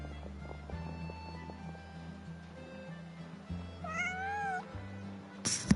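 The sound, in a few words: cat meowing in video game Genshin Impact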